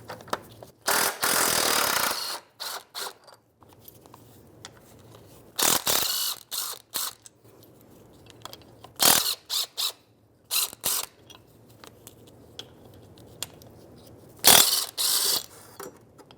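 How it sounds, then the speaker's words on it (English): A ratchet wrench with a 14mm socket loosens the bolts on a 2011-2016 Hyundai Elantra transmission mount. Bursts of rapid clicking come in several separate runs, with quiet pauses between them. "this little T-bone mount for the transmission is in the way, so I'm just going to unbolt it."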